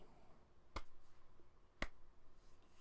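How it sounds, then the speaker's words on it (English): A lone, sarcastic golf clap: two sharp, dry hand claps spaced about a second apart, close and crisp over a faint room hush. "Golf clap."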